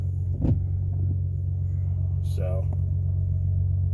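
A 2005 car with a 3-liter engine idles steadily, a low continuous rumble that holds even throughout, with a brief voice speaking over it near the start and another short sound partway through.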